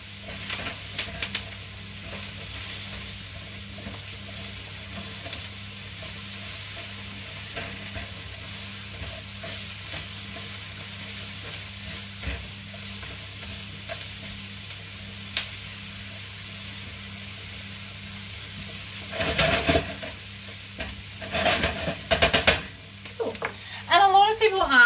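Mushrooms and onions fry in a pan with a soft, steady sizzle, stirred now and then, with louder scraping and stirring bursts near the end and a faint low hum underneath.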